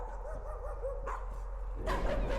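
A dog barks and whimpers in a horror video game, a series of short repeated yips and barks up close, with a louder burst of game noise at the end.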